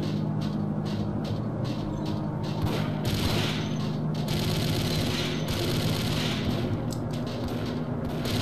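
Sustained gunfire in the Max Payne game: rapid, dense volleys of shots and booming impacts rattling on without pause, loud and close over a constant low rumble.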